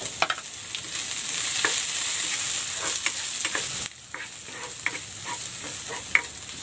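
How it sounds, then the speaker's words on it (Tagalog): Garlic and onion sautéing in a pan, a constant close hiss of frying oil with scattered stirring clicks, dipping briefly in the middle before the sizzle resumes. "Magigisa na ako ng bawang. At ng sibuyas."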